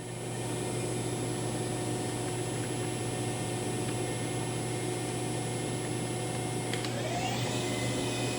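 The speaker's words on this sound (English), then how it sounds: "Spindle's currently running at 500 RPM." A 2016 Hurco TM8i CNC turning center runs its spindle at speed, giving a loud, steady mechanical hum with constant tonal whine. Near the end a rising whine sweeps upward as the spindle speeds up.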